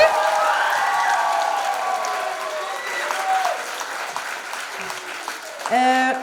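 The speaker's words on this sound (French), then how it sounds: "on va donner une bonne main d'applaudissement à Colin, Maïna et à Loïc" Steady applause from a school talent show audience fills the whole stretch, evenly sustained, with a few brief electronic chirps near the end.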